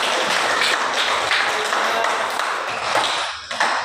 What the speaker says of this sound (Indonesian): mereka berikan aplaus untuk Angela Nadia